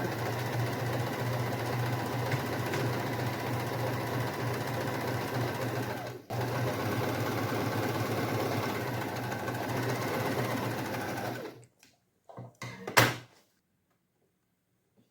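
Sewing machine stitching around the lining of a frock, a steady close mechanical whir running for about eleven seconds with a short pause, then stopping with a few clicks and handling knocks.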